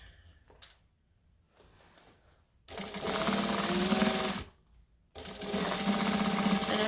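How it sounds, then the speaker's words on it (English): An overlocker sewing machine stitches a jacket seam in two loud, steady bursts of rapid whirring, separated by a short pause, after quieter handling noises at the start. "I am still gonna overlock this so that it stays where I want it"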